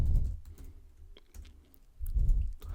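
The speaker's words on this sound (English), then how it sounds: "You do that by typing" Keys clatter in short bursts on a computer keyboard while Arduino code is typed, soft close clicks with low thumps and pauses between runs.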